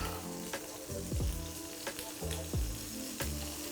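Butter and olive oil sizzle in a pan, a constant hiss with scattered pops and crackles, close by and without talk.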